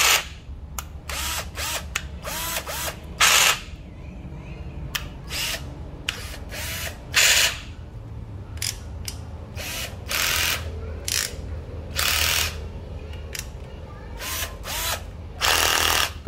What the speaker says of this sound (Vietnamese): Đây là cây khoan ha.